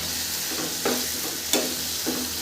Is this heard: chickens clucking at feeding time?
no